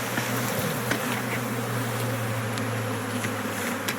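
Huge swarm of honey bees buzzing, a dense steady hum heard close up and unbroken for the whole stretch, with faint scattered handling noises and no talking.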